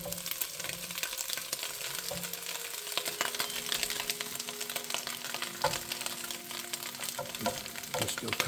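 Cabbage dumped into a pan with browned kielbasa fries in a soft, continuous sizzle, with scattered stirring scrapes and clatter, fairly quiet and close.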